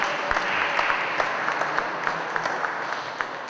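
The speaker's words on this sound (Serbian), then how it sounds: "Aplauz im dajte." A small crowd at a basketball training session claps for the winning team in a dense, steady burst of applause that holds evenly from start to finish, with no voices over it.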